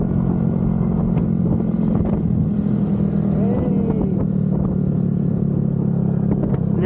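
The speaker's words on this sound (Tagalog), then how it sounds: "Ganda din pala ng tunog ng Villain Pipe" Yamaha motorcycle fitted with a Villain exhaust pipe, its engine putting out a steady low drone with a few rises in pitch, heard continuously and fairly close throughout.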